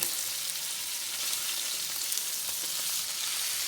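Beef roast searing in hot oil, giving a steady, close, loud sizzle that holds evenly throughout with faint crackles and no voices.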